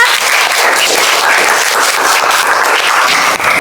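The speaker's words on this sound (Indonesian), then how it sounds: "tepuk tangan dulu untuk kita" A classroom of students claps together in a dense, loud, continuous burst of applause lasting several seconds with no speech over it.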